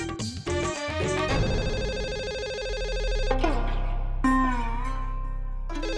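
An electronic phone ringtone plays a repeating melodic tone over a low hum, cutting off briefly and then resuming.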